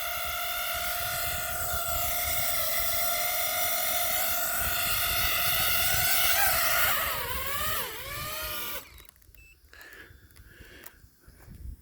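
A DJI FPV drone carrying an Insta360 camera, with overheated ESCs, hovers and wobbles under strain: a loud, high propeller whine with wavering pitch that bends and dips, then cuts off abruptly to faint scattered noise.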